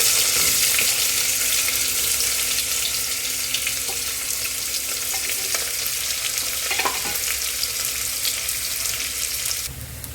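Whole spices such as cloves crackle as a tempering in hot oil for coconut rice, a loud, steady close-up sizzle with scraping stirring strokes throughout, easing slightly at the very end.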